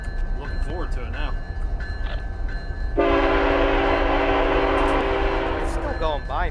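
A Union Pacific freight train rolls by in the Run 8 train simulator with a rumbling, clattering passage. A loud sustained horn blast starts partway through and holds for several seconds over the rolling noise.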